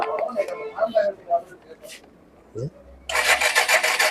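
Talking at first, then a Suzuki Gixxer motorcycle with no spark is cranked near the end with a burst of rapid, rattling turnover that keeps going without catching.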